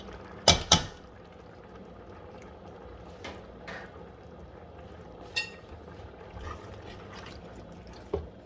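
Dry pasta goes into a pot while making chicken fajita pasta: two sharp clunks at the start, then scattered softer knocks and light clatter against a quiet kitchen background, with no voices.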